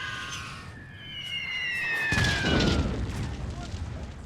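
WW1 artillery bombardment in a Total War battle, with a descending whistle of incoming shells followed by a heavy, rumbling explosion that lingers as a broad roar, under a speaking voice.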